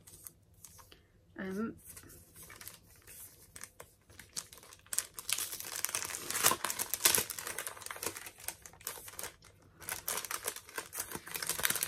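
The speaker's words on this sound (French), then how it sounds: "je vais ouvrir le cadeau dans mes pochettes" A gift pouch is opened by hand, giving bursts of crinkling and rustling wrapping paper, close and fairly quiet, with brief speech early on.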